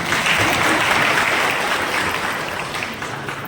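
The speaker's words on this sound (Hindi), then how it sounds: "एक बार आप लोग ताली बजा के इनको सम्मानित करें" Audience applause at a teachers' Mission Daksh meeting in a hall, a dense burst of clapping that starts strong and slowly tapers while staying continuous.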